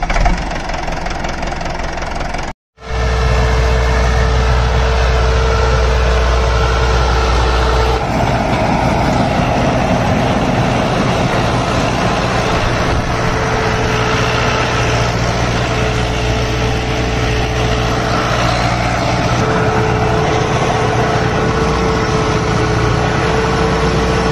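A Standard Di 460 18-gear tractor engine runs with a super seeder attached, a loud close diesel drone with a knocking, idling character that cuts out briefly after a start, then settles back into a continuous hum, with no voices.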